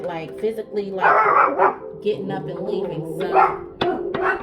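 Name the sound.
dog barking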